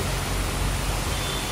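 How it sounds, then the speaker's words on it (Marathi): Steady broadband roar of a waterfall in heavy monsoon rain at Tamhini Ghat, constant and close, with no break across the clip. "वॉटरफॉल"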